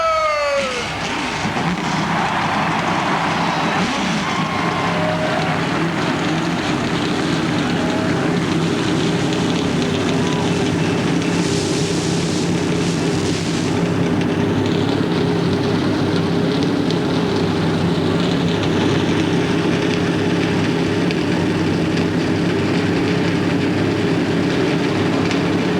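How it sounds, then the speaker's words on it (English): A field of stock cars fires up at the 1999 Daytona 500, a loud dense roar of many engines swelling and holding steadily across the speedway. "Gentlemen, start your engines!"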